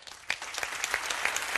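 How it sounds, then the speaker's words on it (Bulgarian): Fairly faint audience applause follows a live violin-backed cover song on a Bulgarian TV singing show, with scattered sharper claps standing out. "Аплодисменти за вас."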